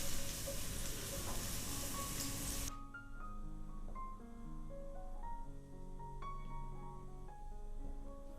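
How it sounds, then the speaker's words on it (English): Mushrooms sizzle and crackle in a hot pan, a loud hiss that drops sharply after a few seconds, with faint tonal notes behind it. "Into the hot pan they go. Listen to that sizzle, and gently stir."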